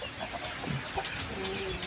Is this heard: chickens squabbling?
yes